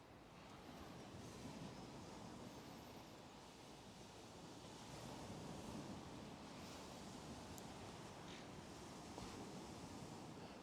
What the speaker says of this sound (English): Got the lovely sounds of the sea in the background